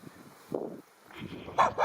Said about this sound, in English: This is our favorite dog.